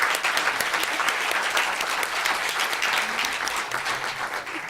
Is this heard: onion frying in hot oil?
no